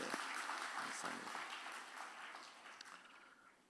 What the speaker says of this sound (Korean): 우리 격려의 박수 부탁합니다.